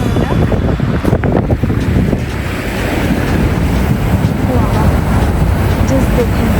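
Water plunging at Niagara Falls in winter, partly frozen, gives a loud, steady broadband roar of falling water, close and continuous, with wind buffeting the microphone.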